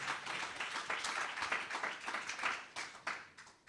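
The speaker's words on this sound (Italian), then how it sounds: "Applaudali" A church congregation applauds during a sermon, a dense, steady wash of many hands clapping at moderate distance, swelling and dipping slightly throughout without speech over it.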